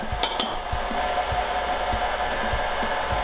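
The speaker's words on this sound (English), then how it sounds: "So I'm going to turn up the speed on my mixer." An electric mixer beats cheesecake batter with a steady, close, loud motor whir and faint periodic thumps of the beaters against the bowl, with no voices.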